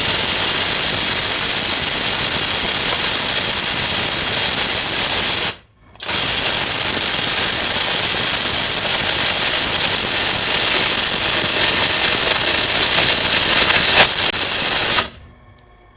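A Tanzu 1000Nm cordless impact wrench loosening a bolt hammers in a loud, dense, continuous rattling burst, stops briefly, then resumes for a long second burst before cutting off, with no voices over it.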